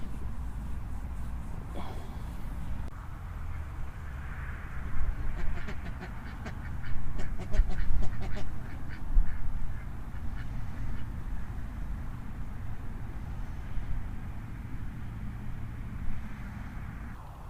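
A pet duck quacks repeatedly in a small rural corner of Wales, bursts of nasal calls clustered over a low, steady outdoor background rumble, moderately close and no speech.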